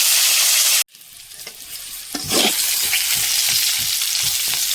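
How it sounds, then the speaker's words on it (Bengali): Pieces of pointed gourd (potol) sizzle steadily in hot oil in a pan, with a loud hiss throughout and a brief cut before the frying resumes with soft stirring scrapes. "এখানে চলছে পটল ভাজা"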